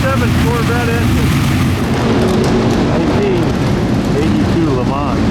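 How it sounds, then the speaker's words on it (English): A Corvette-engined race car at Monterey Car Week gives a loud, steady rumble with a few revving sweeps, and crowd voices blend into the background. "Corvette engine."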